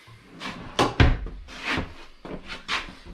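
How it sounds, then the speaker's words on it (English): A bathroom drawer on full-extension ball-bearing guides slides open and shut in a park model RV, giving a few soft rolling sweeps and one sharp wooden knock near the start, close by and with no talking. "you've got your full extension ball bearing drawer guides in the bathroom"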